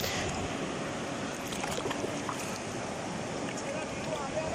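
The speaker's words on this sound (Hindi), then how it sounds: "आप इस पानी को एंजॉय करें, इसके शोर को सुने" Rushing river water near a waterfall on a hiking trail around Shogran and Seri Paye, a loud unbroken roar and hiss that fills the whole clip, with no voices heard.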